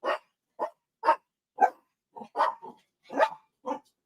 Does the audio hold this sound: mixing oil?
no